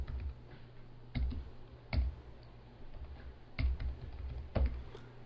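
Computer keyboard typing during live coding of a mobile graphics app, heard as a few sparse, distinct key clicks at irregular intervals over a low background hum, fairly close.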